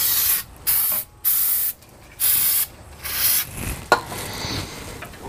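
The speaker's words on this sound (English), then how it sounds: "Spray down the drum a little bit." Several short hissing bursts of an aerosol spray onto a brake drum of a 1998 Ford F-150, close and loud, followed by faint rubbing and a light metallic clink.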